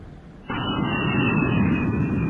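A jet engine effect for an audiobook scene in which a flying Easter egg switches to a super-jet engine, a sudden loud whooshing roar that starts abruptly and holds steady with a high whistle on top.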